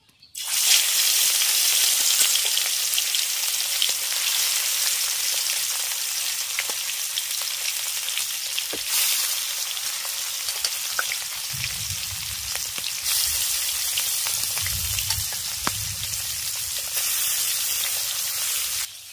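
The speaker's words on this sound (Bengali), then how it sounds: "তেল গরম হয়ে গেছে, এবার লবণ আর হলুদ মাখিয়ে রাখা মাছগুলো তেলের মধ্যে দিয়ে দেবো।" Pond fish coated in salt and turmeric frying in hot oil, a loud continuous sizzle and crackle with a few pops and a low rumble partway through, close and without speech.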